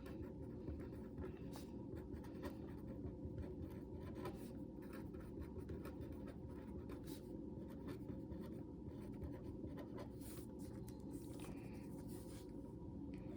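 Pen or pencil writing a name and date on paper, a continuous soft scratching under steady background hiss, faint and close with no talk.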